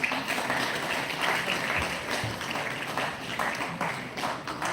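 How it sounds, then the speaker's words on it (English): Audience applause at an event of the ICFAI Foundation for Higher Education in Hyderabad: moderately loud, scattered clapping runs throughout, with a few sharper individual claps and thumps. "A big round of applause, please."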